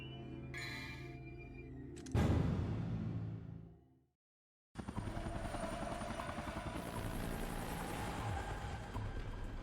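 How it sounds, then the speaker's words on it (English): Helicopter in the Devil May Cry 2 video game, a loud steady rotor and engine drone returning after a brief silent gap, preceded by a crashing game sound burst. "So what, are we following that helicopter now?"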